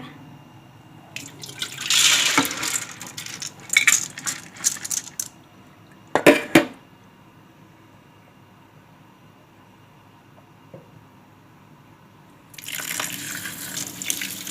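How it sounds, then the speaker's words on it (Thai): Glutinous sticky rice being washed in water in a kitchen sink: running tap water and splashing in bursts, with quiet pauses between, close by. "ล้างข้าวเหนียวค่ะ"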